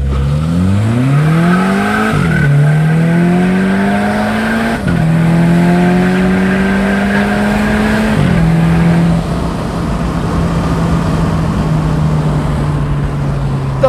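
Volkswagen Polo GTI revving hard through the gears with wheelspin, its engine note climbing in pitch, dropping at each of three quick shifts, then holding steady, loud and close over tyre noise, no voices.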